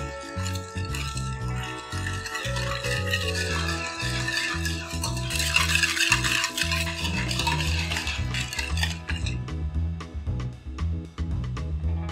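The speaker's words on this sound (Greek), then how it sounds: "και ανακατεύουμε πολύ καλά." A mixture of baking soda, cinnamon, clove, baking powder and sesame is stirred in a bowl for Cretan fasting breadsticks, a continuous scraping rustle with clinks of the utensil against the bowl, close and steady.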